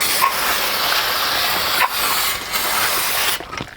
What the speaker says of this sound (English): clean everything up real quick with some brake cleaner